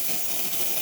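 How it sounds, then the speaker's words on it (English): The steam wand of a Saeco Starbucks Barista espresso machine, just after a full tune-up, gives a steady, loud, broadband hiss of escaping steam that stays even throughout. "very, very, very solid, steady stream of steam"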